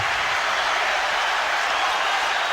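Crowd at a Gaelic football ground during the 1991 Dublin v Meath game applauds a returning player, a broad, steady wash of distant clapping and crowd noise across the stadium.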